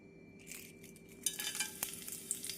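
Cinnamon bark and fennel seeds fry in hot oil for a plain vegetable salna, giving a quiet, steady sizzle with a few sharp crackles and pops and no voices.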